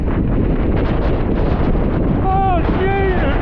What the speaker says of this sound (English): Oh my god! That's windy now!